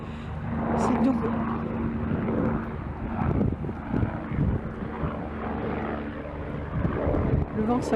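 A helicopter drones nearby with a rough, pulsing rotor and engine rumble that rises and falls slightly over several seconds, moderately loud beneath someone speaking.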